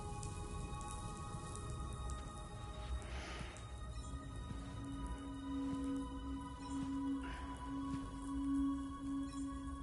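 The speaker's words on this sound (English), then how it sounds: "Those raindrops are falling on." Steady rain falls in the video game Death Stranding 2: On the Beach, a continuous soft patter with a low sustained tone running underneath it throughout.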